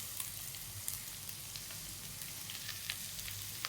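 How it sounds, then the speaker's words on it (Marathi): Peas, cauliflower and capsicum sauté in a pan for vegetable pulao. A soft, even sizzle runs throughout, dotted with faint crackles and pops, quiet and steady with no voices. "हा वाटाणा सगळं परतून घेते."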